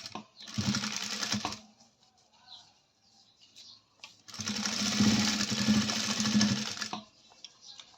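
A sewing machine stitches a sleeve in two close, loud bursts of rapid mechanical whirring, the second one longer, with a quiet pause between them.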